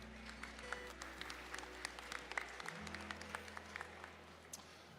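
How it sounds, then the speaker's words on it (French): Applause in a large hall at the final of a pedigree cat competition at the Paris agricultural show; the clapping is faint and somewhat distant, with scattered distinct claps over a steady low electrical hum. "on vous applaudit bien fort tous encore une fois"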